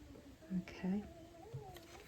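A pet cat snores with a strange, uneven rhythm in the background, its short raspy breaths faint and intermittent while crafting continues nearby.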